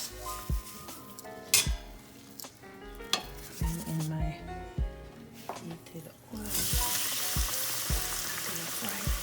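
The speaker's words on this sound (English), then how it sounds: "Gonna fry it for like 2 minutes and needed more oil" Ice cream frying in hot oil gives a quiet sizzle under clinks of pans and utensils, and the sizzle swells into a steady, louder hiss partway through.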